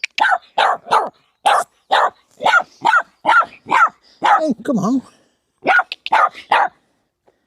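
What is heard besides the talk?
dog barking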